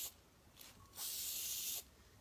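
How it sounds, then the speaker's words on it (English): Adhesive sprayed from an aerosol can onto a tumbler cup before glitter goes on: two short hissing puffs, then a longer steady burst, close and quiet. "So I'm going to spray my cup"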